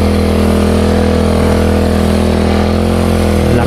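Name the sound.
power sprayer engine running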